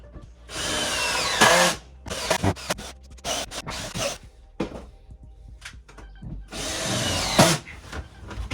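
Power drill driving long screws through timber and plywood into a wall stud for a folding workbench, two loud sustained whirring bursts with scraping and thunks between them, no talking.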